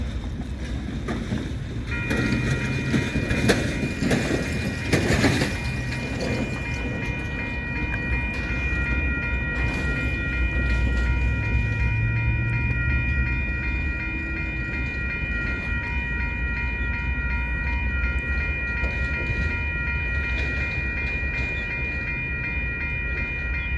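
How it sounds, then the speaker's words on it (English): A pair of Union Pacific light engine locomotives, an AC6000 and an AC44, head west out of a rail yard with nothing in tow; a loud diesel rumble with sustained horn-like tones builds, holds and gradually fades. "a pair of UP light engines headed west out of the Grand Island Yard"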